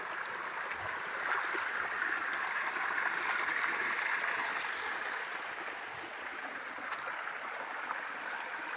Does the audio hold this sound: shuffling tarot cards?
no